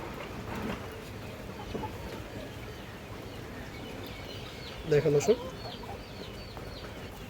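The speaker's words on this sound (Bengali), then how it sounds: "এই যে দেখেন মুজাওয়ালা ব্রাহ্মা মুরগি।" Brahma chickens with feathered legs at a poultry farm give a short, close burst of clucking partway through, over steady background noise, with someone briefly talking.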